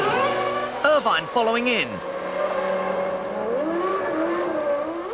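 Formula 1 cars from the 1997 season, including the Ferraris and Williams, scream past with high, sweeping engine whines that rise and fall in pitch, with steady race noise underneath and a commentator talking over it.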